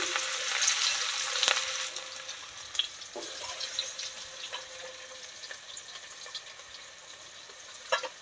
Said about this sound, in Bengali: পেঁয়াজ তেলের পর দিলাম